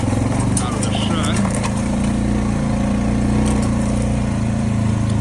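A 2020 Rubicon Deluxe ATV engine drones steadily and loudly while riding through Kentucky woods, a continuous mid-pitched hum with slight revving swells, heard alone throughout.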